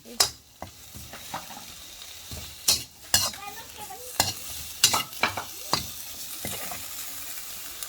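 A spatula or spoon stirs and scrapes freshly blended ingredients frying in a large pot, giving repeated loud clacks and scrapes over a steady sizzle, close up with no talking.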